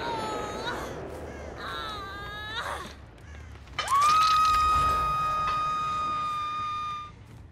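A Dead by Daylight character screams while running, high wailing cries that break off and then rise into one long sustained shriek, loud and close against faint game background.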